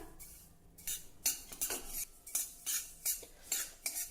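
White sesame seeds are dry-roasted in a pan while a spatula stirs them, producing a quiet series of scraping strokes and light metallic clinks in an irregular rhythm, close up.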